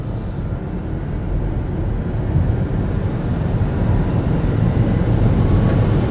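Steady broadband rush of wind noise inside a 2021 Nissan Leaf electric car cruising at about 65 mph on a highway, loud, constant and slowly building, with no voices.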